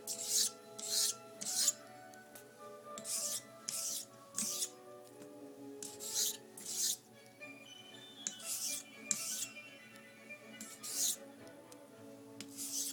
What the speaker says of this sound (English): I'm doing a sort of an X stroke here so that all the blade